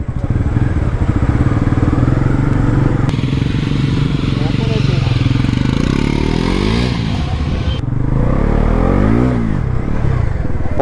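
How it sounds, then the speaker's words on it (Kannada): A Bajaj Pulsar NS400Z motorcycle at a launch event starts and revs hard, its loud engine surging and falling in repeated throttle blips with mechanical clatter, close up and continuous. "ಸ್ಟಾರ್ಟ್ ಆಗಿದೆ NS 400 for the first time"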